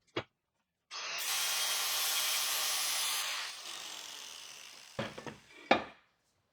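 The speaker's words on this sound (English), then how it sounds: "The underneath of the vise isn't very flat, so I'm grinding it where needed to stop it from rocking." A grinder working the uneven underside of an old metal vise, a steady abrasive hiss for a couple of seconds that tapers off, followed by a few sharp knocks and clanks, close and alone.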